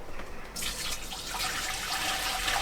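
Hot water pours from an urn into a vessel for brewing a traditional best bitter from dry malt extract, a steady close splashing stream that starts after a brief pause and keeps running throughout.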